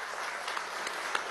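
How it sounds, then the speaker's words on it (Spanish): An audience applauds at a public consultation meeting in Venezuela on a law regulating NGOs, a soft, even patter of clapping heard from a distance. "Pido un aplauso"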